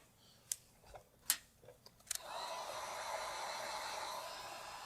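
A heat gun blows hot air, starting with a few sharp clicks and then a steady close whoosh, used to warm a retro side panel graphic on a Bronco.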